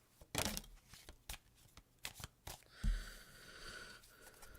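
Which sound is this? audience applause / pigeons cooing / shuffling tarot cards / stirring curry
shuffling tarot cards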